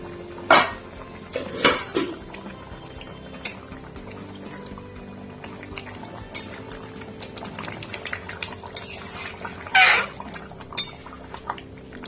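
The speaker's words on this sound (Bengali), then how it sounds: "ঢাকাটা খুলছি" A lid coming off a pot of chicken curry after fifteen minutes of covered cooking, with sharp metallic clanks near the start and again toward the end, and a soft bubbling and rustle between them.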